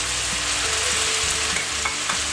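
Chopped garlic dropped into a hot pan with meat stew, sizzling loudly and continuously up close, with faint clinks of stirring underneath.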